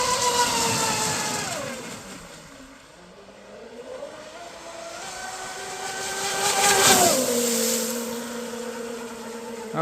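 A Castle Hydra X8S twin-motor RC boat whines past with its electric motors, the pitch swooping down and back up as it turns, fading and swelling as it moves, with no talk.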